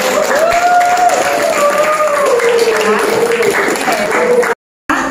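A classroom of pupils claps together, a steady wash of hands with voices calling over it, then it cuts off abruptly near the end.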